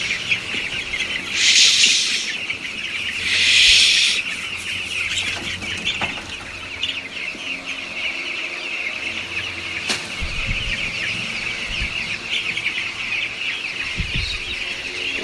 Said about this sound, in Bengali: মুরগিগুলো কিন্তু সবগুলো এক জায়গায় চলে এসেছে